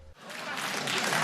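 Sitcom studio audience bursts into applause and cheering, a sudden dense wash of clapping that swells and holds loud through the moment.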